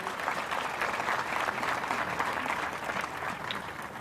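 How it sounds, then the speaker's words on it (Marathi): An audience at a motivational talk breaks into applause, dense continuous clapping from a large crowd, steady and loud throughout, with no voices over it. "आपण सगळेजण आपल्या या शिवम प्रतिष्ठानसाठी एकदा टाळ्या वाजवून त्यांना अभिनंदन करूया."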